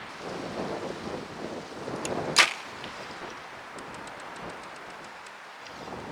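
Steady outdoor wind noise buffeting the microphone, broadband and rumbling, with a sharp brief snap partway through, at outdoor archery practice.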